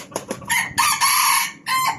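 A rooster crows several times in close succession, loud and near, with long drawn-out calls and brief clucks between them, no talking.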